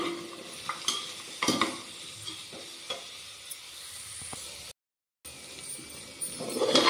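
Carrots and peas stirred and fried in a pan for a breakfast dish: repeated close scraping strokes over a steady sizzle, with a brief silent gap near the end, then the frying grows louder.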